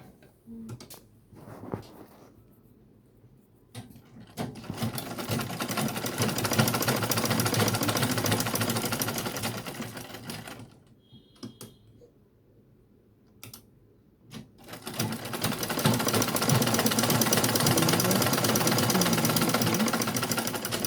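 A sewing machine running top stitching on Ankara cargo pants, two long steady whirring runs broken by brief pauses, close and fairly loud with no talk.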